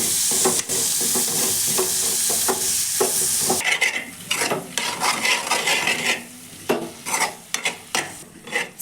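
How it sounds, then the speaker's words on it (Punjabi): Tomatoes and spice masala frying in hot oil for a Punjabi round pumpkin curry, with steady sizzling and repeated scraping stirs of a spoon against the pan, close and clear, no talking. "ਇਹਨਾਂ ਨੂੰ ਆਪਾਂ ਹੁਣ ਉਦੋਂ ਤੱਕ ਪਕਾਣਾ ਹੈ ਜਦੋਂ ਤੱਕ ਆਪਣਾ ਮਸਾਲਾ ਜਿਹੜਾ ਚੰਗੀ ਤਰ੍ਹਾਂ ਤੇਲ ਨਾ ਛੱਡ ਦੇਵੇ"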